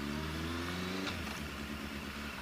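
A Honda CB650R motorcycle pulling away, its engine note rising steadily from a low idle hum to a smooth revving drone, close and continuous with no talking.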